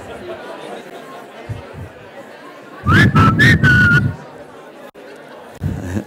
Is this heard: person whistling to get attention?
yes